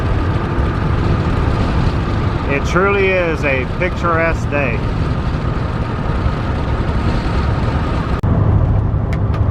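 A car cruises along a road on a clear day, its steady engine and road rumble running loud and continuous throughout, with a person talking briefly over it.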